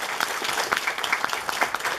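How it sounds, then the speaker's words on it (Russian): A full concert hall audience claps after a Tatar ensemble's song, a dense, steady patter of many hands with sharper individual claps standing out near the listener, lasting the whole two seconds. "Аплодисменты вам."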